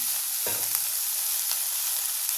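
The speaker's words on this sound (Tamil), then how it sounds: "நல்லா பச்சை வாசனை நல்லா வதக்கணுங்க" Masala sautés in a pan with a steady, bright frying hiss throughout, broken by a brief scraping stir early on and faint utensil taps, no voices.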